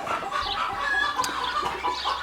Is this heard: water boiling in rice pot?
no